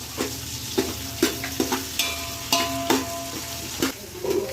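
Onions and marinated chicken fry in a pan for a biryani, with a soft steady sizzle beneath repeated scrapes and clinks as a spoon stirs against the pan at an uneven rhythm.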